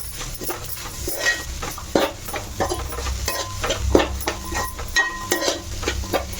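Spice powders being stirred together in a bowl for vegetable roll filling, giving steady scraping and clinking of a spoon against the bowl with repeated close strokes and no talking.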